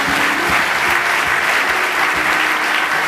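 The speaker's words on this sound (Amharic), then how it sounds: "አጨብጭቡ እስኪ።" Audience at a church gathering in Seattle breaks into steady, dense applause, a continuous wash of many hands clapping, loud and close throughout without pause.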